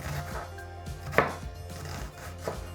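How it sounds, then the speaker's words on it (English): A knife chops food on a cutting board in a home kitchen, with a few distinct thuds over a low steady background hum and no voices. "This is lovely knife work."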